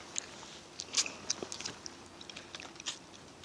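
Close, wet chewing and crunching of sour wood sorrel leaves eaten outdoors, a quiet run of soft bites and smacks with a few sharper crunches spread over a few seconds.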